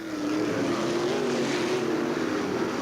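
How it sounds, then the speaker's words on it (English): A field of race cars at Limaland Speedway accelerates together at the start of a heat race, a loud sustained engine drone with a steady rising pitch and no break. "The green flag comes out on the first heat race."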